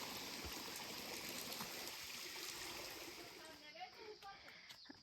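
A small stream swollen by rain rushes in a steady, broadband wash of flowing water, with faint talk and a few splashes toward the end.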